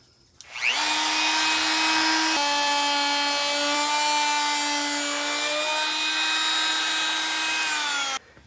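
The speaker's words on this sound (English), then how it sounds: "quarter inch roundover bit. I don't like to use anything bigger than that, just in case you go through to the grooves in the back of the hardwood flooring." A router fitted with a quarter-inch roundover bit spins up and cuts along the edge of hardwood flooring, a loud, close, high-pitched whine held for about seven seconds before stopping abruptly.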